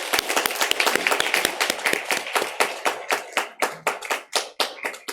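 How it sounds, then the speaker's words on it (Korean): A church congregation claps in a Sunday worship service, starting as dense overlapping applause and thinning out into a few slower, separate claps by the end. "우리 교회에서 일꾼으로 성장하실 수 있도록 박수로 격려하겠습니다"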